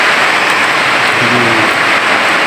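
Steady rain falls outside an old church in Valladolid, Negros Occidental, a dense continuous hiss that stays even and close for the whole stretch, with no voices over it.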